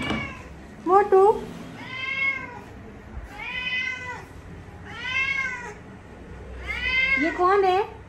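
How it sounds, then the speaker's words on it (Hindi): A cat meows repeatedly, five or so drawn-out, rising and falling cries spaced a second or two apart, close and clear over a faint background. "म्याऊं म्याऊं कर रहा है।"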